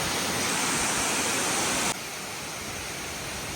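Agaya Gangai waterfall in the Kolli Hills roars as a steady, dense rush of falling water, loud and unbroken, dropping slightly in level partway through with no voices.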